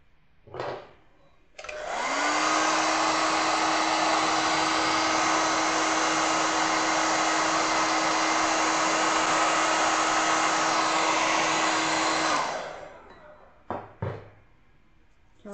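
A hair dryer drying stencil paint on a kettle runs steadily and loudly for about ten seconds with a constant whine, then cuts off, with a few brief handling bumps before and after.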